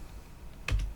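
Two quick keystrokes land near the end of a mostly quiet moment as a website address is typed on a computer keyboard during Raspberry Pi setup; the clicks are close and crisp, with no voices.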